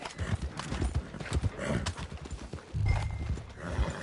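Horse hooves clip-clop at a steady walk in a Western video game, close and clear, with a faint voice in the background.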